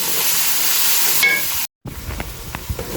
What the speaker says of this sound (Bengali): পেঁয়াজ আমি বেশ কিছুক্ষণ ভেজে নেব